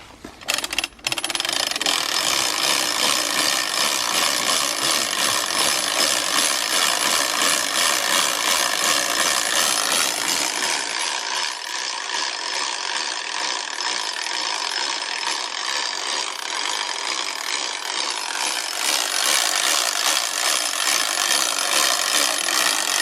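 Hand-cranked machine grinding corn, a steady loud ratcheting, rubbing mechanical churn with rhythmic grinding texture that runs continuously throughout, close and without talk.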